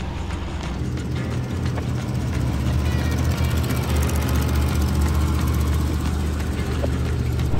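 A Toyota 4Runner with flat tyres labours up a hill, its engine a steady low drone throughout with faint rattling, continuous and moderately loud.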